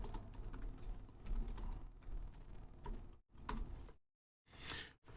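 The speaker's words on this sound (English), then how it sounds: "And then you'd have to type in," Quick clattering keystrokes on a computer keyboard, close and fairly quiet, come in uneven bursts with a couple of brief silent pauses.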